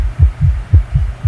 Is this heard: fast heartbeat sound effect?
yes